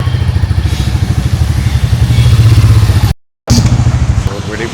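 A Royal Enfield motorcycle engine thumps along steadily on a test ride, a loud, close, low pulsing beat that drops out for a moment and returns, with a voice talking over it.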